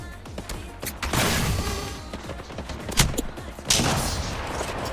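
Sustained gunfire from the Highguard video game, a dense rattle of rapid shots with sharper cracks and a few heavier bursts, continuous and close throughout.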